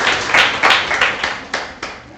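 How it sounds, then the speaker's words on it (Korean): A Korean church congregation claps during a Sunday service to welcome visitors, in a few short, uneven bursts of hand claps that rise and fall in a reverberant room. "잠깐 일어났을 때 우리 환영의 박수 하겠습니다"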